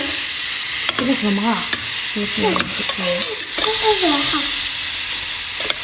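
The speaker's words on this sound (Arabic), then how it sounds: "هذيك اللحم نقليه مليح مع هذه البصله" Meat frying with onion in a pot for couscous with meat, a loud steady sizzle with stirring that runs throughout, while a voice speaks briefly over it.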